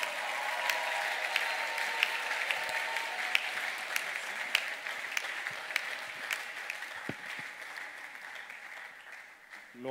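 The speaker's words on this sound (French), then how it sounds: "Avance, nous acclamons le Seigneur." A church congregation claps and cheers in acclaim, dense sustained applause with sharp individual claps standing out, filling the room at even loudness throughout.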